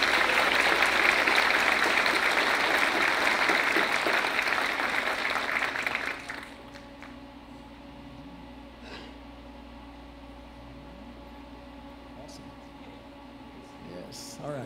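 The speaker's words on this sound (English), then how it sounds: "Please give them another round of applause." An audience applauds at a 2023 high school senior awards ceremony: loud, dense clapping from a large crowd lasts about six seconds, then cuts off and leaves a quiet room with faint background murmur.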